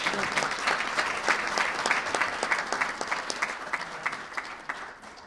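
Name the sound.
audience applause at a press event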